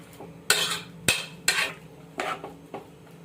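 A spoon stirs Rayalaseema green chilli dal in a metal pot, with several sharp scraping clinks and swishes coming in uneven strokes, close and clear with no talking.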